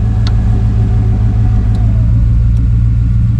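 A 1994 Chevy C1500 pickup engine idles with a deep, steady low rumble and even hum, loud and close, with a few faint ticks over the top and no talking.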